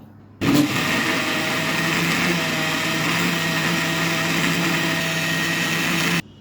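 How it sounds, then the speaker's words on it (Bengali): A kitchen blender whirs loud and steady for about six seconds, blending banana cake batter of whole wheat flour, oil, salt and sugar, then cuts off abruptly, with no voices. "এখন আমি ব্যান্ডার করে নেব"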